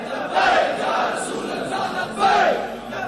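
A large crowd chants the Labbaik Ya Rasool Allah slogan in two loud, swelling bursts at a religious gathering, with a continuous roar of massed voices between them.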